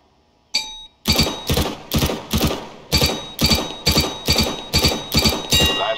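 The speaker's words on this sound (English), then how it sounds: "High-caliber firearms can penetrate materials. Hit the target through that piece of wood." High-caliber gunfire in Counter-Strike: Global Offensive, fired through a piece of wood at a target: after a short click, about ten loud, evenly spaced shots ring out in a steady rhythm.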